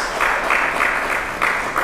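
A church congregation at an Indonesian worship service applauds together, a dense, continuous wash of many hands clapping at once, with small surges in strength and no voices standing out.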